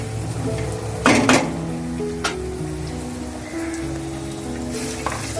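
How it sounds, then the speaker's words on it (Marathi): Masala sizzling and frying in hot oil in a pan for a dried bombil (Bombay duck) curry, a steady close crackle with a few sharp stir-and-scrape clatters of a spoon against the pan. "मसाला नीट परतून घ्यायचा तेलामध्ये"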